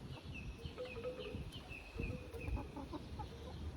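Young hens about 21 weeks old cluck softly and intermittently at close range, with scattered short calls over a steady background of outdoor coop noise.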